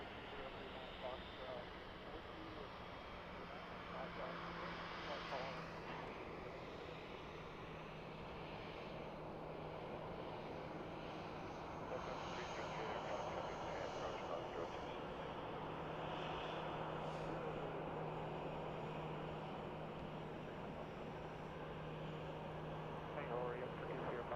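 An airplane taxis toward gate B-16 at Boise Airport, a steady low engine drone holding at moderate distance for the whole stretch, with faint voices in the background.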